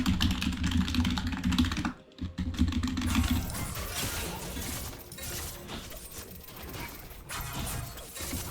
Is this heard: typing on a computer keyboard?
yes